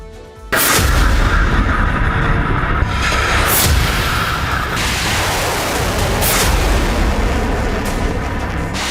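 Launch test of the DRDO-developed Agni-Prime ballistic missile: a sudden, very loud blast erupts, then a sustained heavy roar follows, rising in crackling surges.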